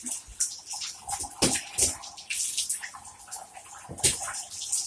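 Child splashing water in a bathtub, with irregular bursts of sloshing and slapping water, some loud close splashes among quieter trickling, and a faint voice now and then.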